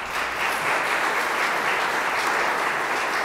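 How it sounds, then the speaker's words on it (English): A church congregation applauds at a Pentecost service, steady dense clapping filling the room at an even level throughout, with no speech over it. "Can I get one more round of applause?"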